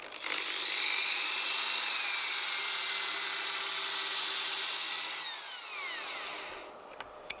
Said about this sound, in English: So I'm going from the 80 grit paper down to some 120 grit, just to take some of the scratches out of it.